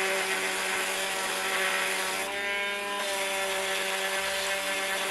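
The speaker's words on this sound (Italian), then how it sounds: "Utilizzo uno strumento elettrico perché a mano sarebbe piuttosto lungo il lavoro" An electric power tool sands a wooden surface smooth to prepare it for pyrography, giving a steady high whining hum with a brief change in pitch partway through, moderately quiet and continuous.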